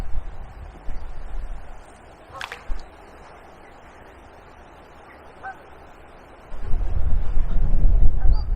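Gusting wind buffets the microphone beside a river during stick float fishing on the River Wye, rumbling loudly at the start, easing through the middle, then surging strongly again near the end.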